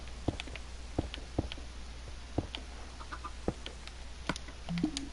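Chickens in the Minecraft video game make sparse, short, soft clucks at irregular intervals over a low steady hum, with no talking.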